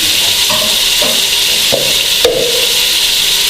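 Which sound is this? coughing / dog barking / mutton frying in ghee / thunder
mutton frying in ghee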